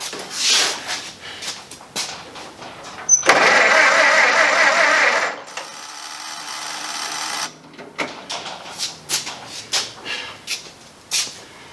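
A reinstalled car engine sputters through a first start attempt. There are clicks and short bursts, then a steady, loud mechanical churning for a couple of seconds, then fainter running and a string of uneven knocks and pops.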